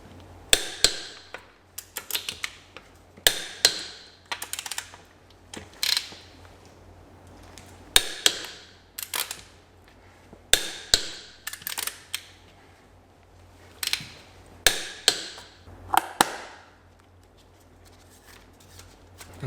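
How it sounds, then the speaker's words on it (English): Wheel bolts on an Audi Q7 are tightened with a torque wrench after a pressed wheel bearing replacement. Sharp ratcheting clicks come in repeated close bursts separated by short pauses. "So now all that's left to do is torque up our wheel bolts."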